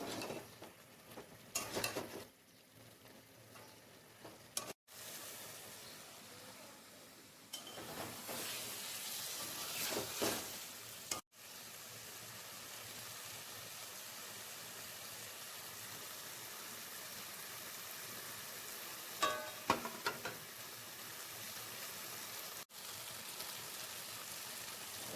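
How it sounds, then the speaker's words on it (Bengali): Potatoes are fried and stirred in spice paste for egg curry, giving a faint steady sizzle and hiss with intermittent scraping and clinks of a spoon against the pan. "এবার আমি আলুগুলো দিয়ে ভালো করে কষিয়ে নেব।"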